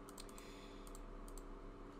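Steady typing on a computer keyboard at a desk during 3D software work, a close run of quick plastic key clicks repeating through the whole stretch with no talking.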